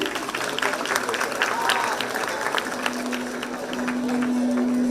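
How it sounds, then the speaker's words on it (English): An audience applauds prize winners at a conference award ceremony, a steady wash of many hands clapping at moderate volume, with voices faintly audible beneath it. "Keep applauding for them."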